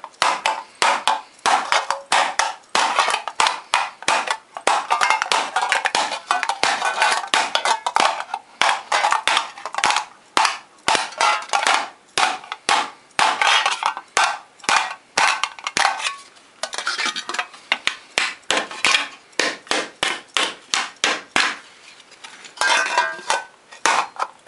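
Rapid, steady hammer blows from the flat end of the hammer dome and stretch sheet metal for a Viking shield, bright metallic taps in a continuous close rhythm with brief pauses.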